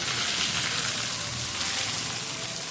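Dense, even sizzling of a tempering for dahi vada crackling steadily in hot oil, a bright hissing fry with no voices.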